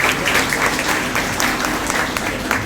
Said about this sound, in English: Let's give them one more of applause.